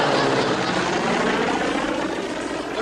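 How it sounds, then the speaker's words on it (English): A propeller plane flying overhead, loud continuous droning engine noise filling the scene with a steady roar and no pauses. "Hey, unidentified plane at 9 o'clock"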